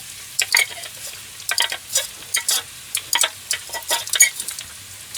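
Rice and egg mixture for Korean-style bacon and egg fried rice stirred and frying in a pan aboard a small sailboat galley, with bursts of sizzling and scraping stirs in an irregular rhythm, close and moderately loud, no talk.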